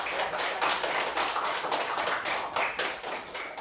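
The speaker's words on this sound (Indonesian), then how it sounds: "Tepuk tangan untuk kelompok 4." A classroom of students claps together for a group after its answer, a dense, steady patter of many hands close by with no talking over it.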